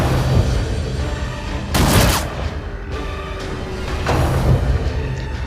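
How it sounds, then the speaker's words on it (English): A grapeshot volley in the dungeon-crawling game Darkest Dungeon goes off in loud, sharp bursts, two main blasts of crackling gunfire roughly two seconds apart over a rumbling background. "So let's do this grape shot."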